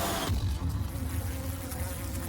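A steady, dense insect buzz, like many bees humming close by, continuous and fairly loud with no voices.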